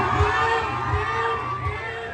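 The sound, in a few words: audience applause and cheering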